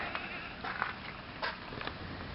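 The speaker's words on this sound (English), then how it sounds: "You can hear some of the animals in the background." Faint bleating of farm livestock, sheep or goats, in the distance, a few scattered calls over a low ambient hum.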